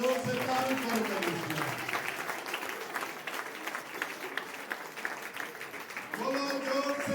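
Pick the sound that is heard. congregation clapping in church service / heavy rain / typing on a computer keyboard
congregation clapping in church service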